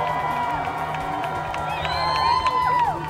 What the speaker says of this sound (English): roaring crowds of people in support of Joe Biden and Kamala Harris